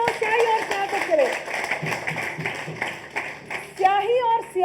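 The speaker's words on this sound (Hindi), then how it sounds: "एक बार जोरदार तालियां हो स्याही और सियासत के लिए।" Studio audience applause on a Hindi political talk show, clapping spread steadily across the stretch, mixed with background music and tonal sounds.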